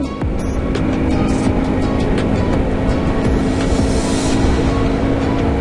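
A quad bike engine roaring loud and close as it accelerates, a dense continuous drone with wind buffeting throughout, no voices.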